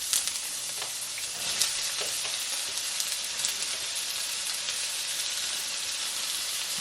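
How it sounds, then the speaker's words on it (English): Onion frying in hot olive oil in a pan for egg bhurji, a dense, bright, crackling sizzle heard close and steady throughout, with a few faint stirring taps near the start, no voices. "I'm going to fry this onion until it turn a little bit brown"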